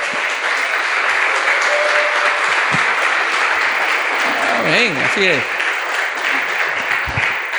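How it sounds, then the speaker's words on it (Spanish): A church congregation applauds steadily throughout, dense clapping with voices calling out over it and a brief sung or shouted phrase partway through. "Dese un aplauso y dese un amén, por favor."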